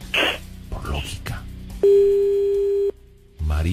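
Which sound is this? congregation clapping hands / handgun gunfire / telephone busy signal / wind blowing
telephone busy signal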